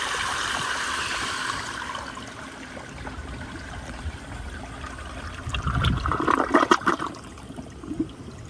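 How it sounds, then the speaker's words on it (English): A 1998 American Standard Cadet toilet on a flushometer flushes a washcloth: a strong rushing whoosh of water fading into trickling, then a gurgling burst and sucking drain near the end, close and fairly loud. "The tank should be full for another flush, so here it goes on a washcloth."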